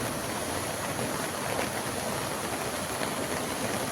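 Continuous heavy rush of flooding river water, loud and unbroken, a dense roaring wash with no voices, during heavy rain in Hingoli.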